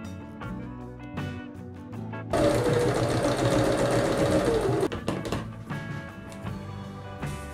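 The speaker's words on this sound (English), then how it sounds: "I'm gonna go ahead and stitch this one on the same way I did the rest of that bit" Sewing machine stitching fabric hexagons for a quilted throw, a short quiet burst, then a loud fast continuous whirring run of several seconds that stops and trails into softer clicks and handling noises.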